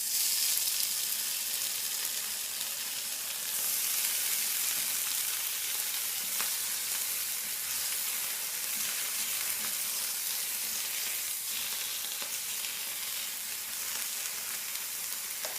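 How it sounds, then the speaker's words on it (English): Ham sears in a hot frying pan for a breakfast sandwich, a steady, loud sizzle and crackle running unbroken throughout with no talking over it. "Now, we're going to just drop in our ham."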